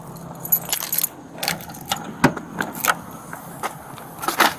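Keys jangling in repeated metallic bursts during a police arrest beside a patrol car, close and fairly loud, with light movement noise between the shakes.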